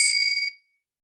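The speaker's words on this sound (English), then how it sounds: "These are Tibetan sound bells" A single bright metallic ring from a Tibetan sound bell with clear high tones, struck once and fading quickly to silence.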